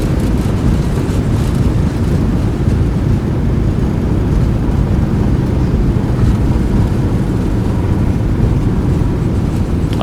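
A PMDG 737-800 in a flight simulator rumbles with a steady, loud broadband roar of thrust reversers and rollout noise on the runway, unbroken and without talk.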